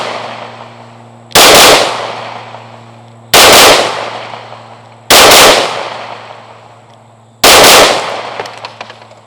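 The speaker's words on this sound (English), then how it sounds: "Just double tap the pistol," Four loud, close pistol double-taps from a Hellcat Pro Comp and a Shield Plus Carry Comp, fired at a center target on an outdoor range, each pair landing as one sharp blast with a ringing decay, spaced about two seconds apart.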